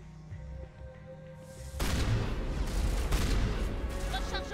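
Shotgun blasts in the video game Mass Effect, with a quiet lead-in before a sudden loud burst of firing that continues in rough, heavy reports amid combat noise.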